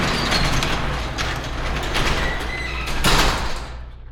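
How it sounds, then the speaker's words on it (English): A residential garage door closing, a long rumbling roll that rattles along for several seconds and builds to a louder clatter near the end before stopping, with no talk. "I gotta get the garage door."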